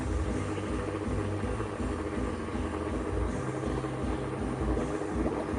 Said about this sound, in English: There we go, it's pushing the air out. Hear the air?